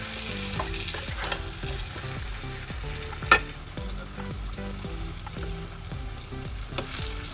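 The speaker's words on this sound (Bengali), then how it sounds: "এবারে আমি কাঁঠালটা দিয়ে দেবো। দিয়ে তারপর ভালো করে মশলার সাথে মিক্স করে দেবো।" Jackfruit fries with spices in a pan, a constant sizzle under repeated rhythmic scraping strokes of a spatula stirring it, with one louder knock midway.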